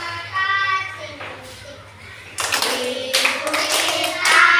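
Children clap their hands in a steady rhythm while singing an Indonesian school song in a classroom, the claps sharp and close over a sung melody and a low background hum.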